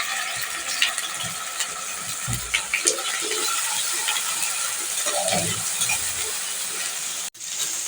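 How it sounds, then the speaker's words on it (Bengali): A steady, close sizzle of ginger-garlic paste frying in oil in a pan, broad and hissing, with occasional scrapes and soft bumps from stirring. "এখন দিয়ে দিচ্ছি আদা রসুন পেস্ট"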